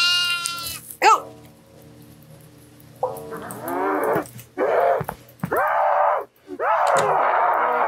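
Goat bleats in the horror game DEVOUR: a series of loud, wavering, nasal cries repeated about five times in close succession, near and prominent, with no talking over them.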